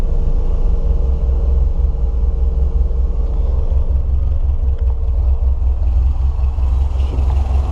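Car engine idling steadily after its idle screw was turned up, with the air conditioning running; a constant low rumble holds close and loud throughout without voices.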